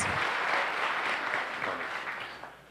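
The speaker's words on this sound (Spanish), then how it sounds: "Para ellos, por favor, un aplauso." Sustained applause from a conference audience in Colombia, steady and dense for a few seconds before tapering off slightly at the end.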